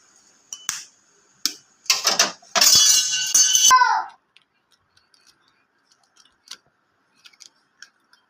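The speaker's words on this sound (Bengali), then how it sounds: "বাটির মধ্যে ডিমগুলো ফাটিয়ে নেব।" Eggs are cracked into a bowl in a kitchen: a few sharp close taps and cracks, then a brief wet slide and splash, followed by quieter scattered clicks.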